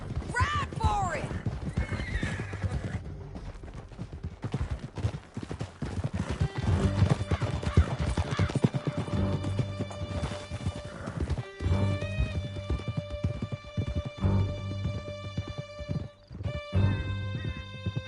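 Horses gallop and whinny in Red Dead Redemption 2 during a canyon chase, rapid hoofbeats running throughout with repeated neighs, and voices shouting in the middle of the action.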